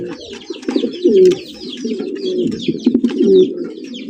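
A male Giribaj pigeon coos repeatedly nearby, low rolling calls in a steady rhythm, with faint chirps and flutters of other birds in the loft behind.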